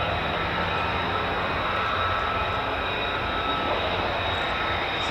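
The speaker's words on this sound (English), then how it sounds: "Fifth generation stealth aircraft," An F-35A fifth-generation stealth fighter jet flies past at RAF Lakenheath, a broad, steady roar of jet engine noise filling the clip, fairly distant and without any talking.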